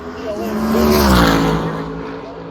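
Drag racing cars launch down the strip at a Cleetus McFarland WCF drag event, their engine roar swelling and then fading, with an announcer talking over it.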